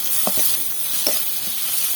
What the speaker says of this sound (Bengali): এবার আমরা আরো কিছুক্ষণ কষিয়ে নিচ্ছি মশলাটাকে।